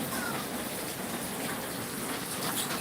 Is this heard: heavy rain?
yes